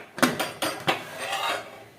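A pressure cooker lid is set and closed with three quick metallic clanks and a short scraping twist, close by and with no talk.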